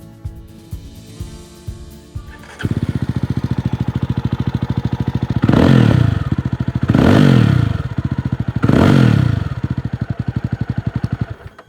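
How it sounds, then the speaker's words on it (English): A Jawa 350 motorcycle engine starts and idles with a deep, thumping exhaust pulse, then revs up three times in quick surges before settling back to idle. "That is the exhaust note of the new Java 350, and it's a nice meaty sounding motorcycle"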